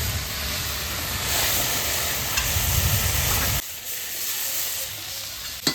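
Food with turmeric frying in a pan, a close, loud sizzle with stirring that drops to a quieter hiss partway through.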